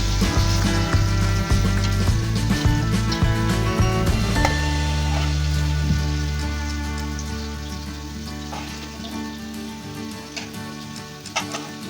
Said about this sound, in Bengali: দেখুন আলুগুলোকে লাল লাল করে ভেজে নিয়েছি